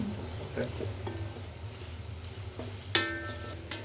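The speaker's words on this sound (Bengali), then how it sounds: "পেঁয়াজের পরিমাণটা আমি একটু বেশি দিচ্ছি, বুঝছেন? আচ্ছা, বেরেস্তা একটু বেশি করতেছেন এই জন্য।" Chopped onions frying in soybean oil for beresta, a soft steady sizzle with occasional stirring clicks and a sharp utensil clink near the end.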